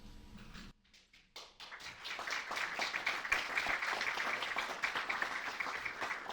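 Audience applause at a panel event on election integrity, a dense wash of many hands clapping that builds after a brief lull and holds steady and loud to the end.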